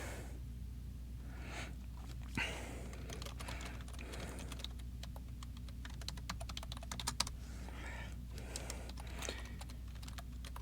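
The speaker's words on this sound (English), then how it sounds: "If you hear me typing" Quiet, rapid clicking of keys on a computer keyboard in irregular bursts over a steady low hum, with soft breathing in the background.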